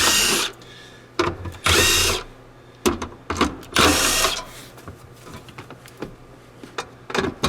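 A power tool removes three 10 mm bolts from a Volvo S60/V70 fuel pump in short, loud whirring bursts separated by pauses, close by, with no speech.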